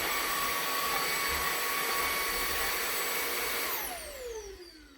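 A cordless vacuum cleaner runs steadily on a ribbed rug, picking up dog hair, with a loud high whine that then winds down in pitch as it switches off near the end, no voices.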